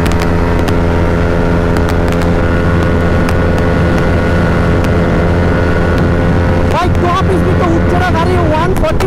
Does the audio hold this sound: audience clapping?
no